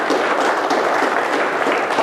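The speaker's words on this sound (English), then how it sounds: "Can we give him a hand clap?" Audience applause at a leadership talk, dense steady hand clapping filling the whole moment, loud and close with no voices over it.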